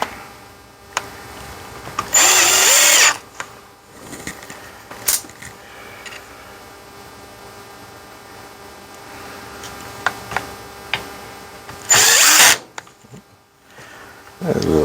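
Power drill driving screws back into the FICM (fuel injection control module) of a Ford 6.0 diesel: two short, loud whirring bursts, close up, separated by quiet clicks and handling noise.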